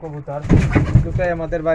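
A male pigeon coos close by, low throaty repeated calls, with a person talking over and around the cooing.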